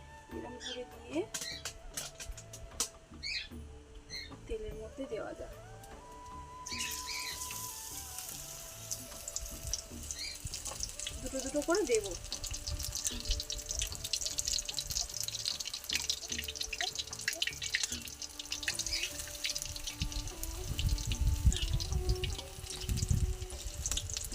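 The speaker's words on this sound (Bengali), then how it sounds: "গরম হয়ে গিয়েছে তেল এক এক করে এবার কুমড়ো ফুলের বড়াগুলো বেসনে এইভাবে দিয়ে" Pumpkin flower fritters coated in gram flour batter are dropped one by one into hot oil. After a few quiet seconds a loud, continuous sizzle takes over, with a voice talking over parts of it.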